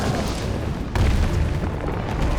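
Heavy grenade blasts in the Resident Evil 3 (2020) remake, a loud broadband boom with rumbling low end that swells sharply near the middle and keeps rolling without any voice over it.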